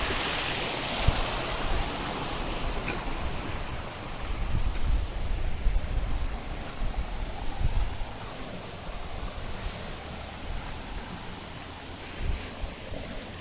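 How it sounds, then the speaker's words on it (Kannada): Broad steady rush of a river flowing over rocks near Benki Falls, carrying stones along, continuous and fairly close with some wind buffeting the microphone. "ನಿಮ್ಗೆ ಕೇಳಿಸ್ತಾ ಇರುತ್ತೆ ನೋಡಿ, ನದಿ ಹರಿಯೋದು"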